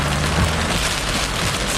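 Heavy rain from a Florida thunderstorm roars steadily and loudly throughout, with a dull low rumble near the start; no voices.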